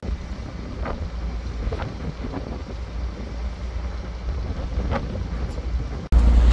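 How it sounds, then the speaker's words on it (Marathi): A Koli fishing boat leaving Versova for open sea churns along with a steady low engine rumble, wind buffeting the microphone, and water wash, ending in a sudden louder gust. "आणि आता ही आपली बोट चाललेली आहे खुल्याबावर."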